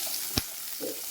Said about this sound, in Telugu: ఇప్పుడు ఇవన్నీ యాడ్ చేసుకొని బాగా ఫ్రై చేసుకోవాలండి.